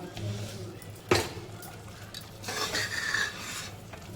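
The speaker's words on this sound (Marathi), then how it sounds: "थोडंसं परतून घ्यायचं" A soya and peas mixture is stirred in a pan, with scraping strokes, one sharp metal clink and a soft sizzle underneath, heard close by.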